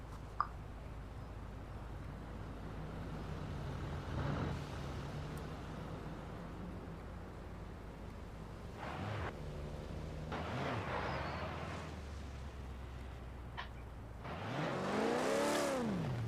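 A Ferrari in Forza Horizon 5 is heard faintly as a distant engine hum, with a few rising and falling revs that swell louder toward the end.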